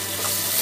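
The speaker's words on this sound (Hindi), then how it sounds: "मसाला अच्छे से भून गया है" Masala sizzles steadily in hot oil in a pan, a brief close, even frying hiss.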